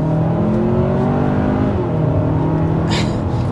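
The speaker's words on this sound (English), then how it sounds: "As you can see with that acceleration there, this is quite the quick standard powertrain, even on the very base model of the Santa Fe" A 2024 Hyundai Santa Fe base model with the 2.5-liter turbo four-cylinder accelerates hard, its engine drone steady and loud with rising and shifting tones throughout.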